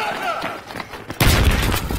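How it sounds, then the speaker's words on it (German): A sudden loud gunshot blast in Battlefield 3 bursts in about halfway through, followed by sustained noisy rumble and crackle, after quieter background game sounds. "Das war ein Schuss."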